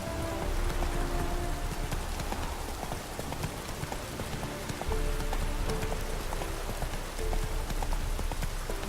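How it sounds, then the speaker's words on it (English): Steady rain falls in the video game The Witcher 3, a dense, even hiss that runs throughout, with horse hooves clopping along beneath it. "Looked like it would rain, and here it is."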